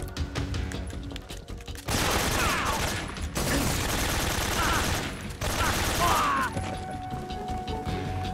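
Shotgun fire in a video game, several loud blasts in bursts separated by brief gaps, with clattering mechanical handling and crashes between them and a voice talking in places.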